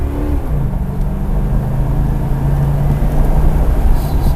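A car fitted with an AMP exhaust pulls onto the gas at a track day, engine drone rising steadily in pitch and growing louder as it accelerates, heard from inside the car.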